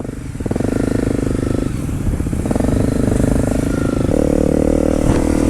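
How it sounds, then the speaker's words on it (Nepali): A group of big motorcycles, mostly BMW GS 1250s plus an Africa Twin and a 390, idle and rev up close as riders prepare to set off, engines droning loudly and steadily with shifting pitch. "हाम्रो सबजना बाइक चाहिँ रेडी भइसकेको छ राइडको लागि"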